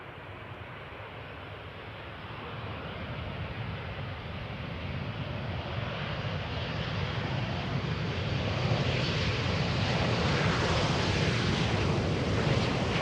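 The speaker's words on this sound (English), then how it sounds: "KLM style landing. Continuing down the runway." A KLM airliner lands on runway 18R at Amsterdam Schiphol Airport and rolls down the runway. Its broad, roaring engine noise holds steady and grows slightly louder and brighter, with no voices.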